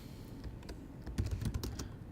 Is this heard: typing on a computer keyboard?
yes